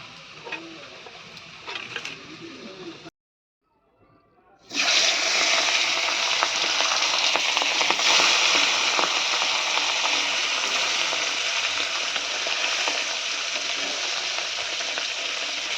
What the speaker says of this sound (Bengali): আর মা লাল শাকের মধ্যে দিয়ে দিল লঙ্কার ফোড়ন আর লাল শাকটা একটু ভাজা করে নিচ্ছে